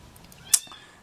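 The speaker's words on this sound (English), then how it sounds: "found us a little kitten on the farm today" A little farm kitten gives a single short, sharp meow that stands out against a quiet, low background.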